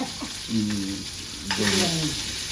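Mustard seeds and cumin frying in hot oil for Indori-style poha sizzle steadily at close range, while someone talks over the crackle in two short stretches.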